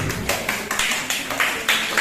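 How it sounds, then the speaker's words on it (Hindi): Audience clapping at a Hindi-language gathering, a steady broadband patter of many hands with small swells, fairly close and continuous. "बैठिए, ताली बजाएं इनके लिए।"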